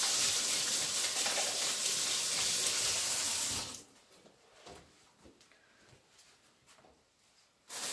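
Tap water runs loudly into a kitchen sink while meat is rinsed and hands are washed, then stops, leaving quiet clinks and handling noises, with no talking.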